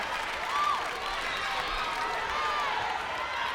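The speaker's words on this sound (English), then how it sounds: "The crowd urging on Michael Coulsen from Long Beach, California." A steady wash of crowd applause and cheering fills an American Gladiators arena as spectators urge on a competitor from Long Beach, California. The noise is dense and continuous, with no clear pauses.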